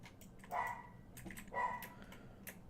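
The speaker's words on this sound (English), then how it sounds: "My dogs keep on barking every 5 minutes." A dog barks twice in a room with a computer game running, two loud, distinct barks about a second apart over a low steady background hum.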